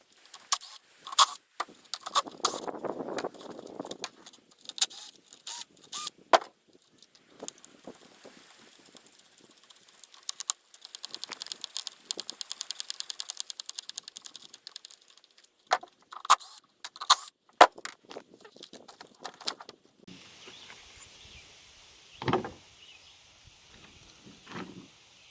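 Clicks, taps and plastic rattles while a Stihl string trimmer head is taken apart by hand, scattered sharp knocks and brief scraping among quiet pauses, close and fairly faint.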